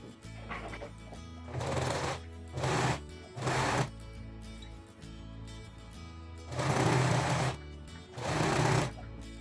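Sewing machine stitching together fabric scraps for a mug rug, running in several short bursts of steady whirring with brief quiet pauses between them.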